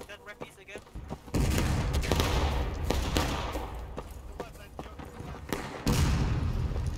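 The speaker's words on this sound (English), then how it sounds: "I think we're getting shot from our left" Bursts of rapid gunfire crackle and boom continuously in the game War of Rights, with a loud volley near the start and another near the end, some shots ringing sharply.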